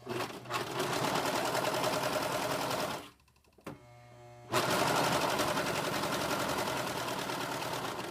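A serger sewing machine stitching a flannel washcloth runs in fast, loud rattling bursts, pausing briefly around the middle with a faint softer run before resuming at full speed.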